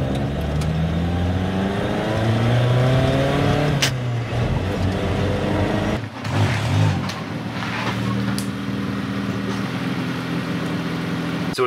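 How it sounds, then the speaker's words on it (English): A Chevy LUV 4x4 pickup driving with its engine held at high revs: a loud, close, continuous drone with rising pitch through the gears, a brief dip at a shift near the middle, then more steady revving. "I like to take it for a 30-minute drive, keep the RPMs high down the highway"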